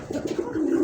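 A Koka pigeon gives one short, soft, throaty coo at close range, alone without any talk.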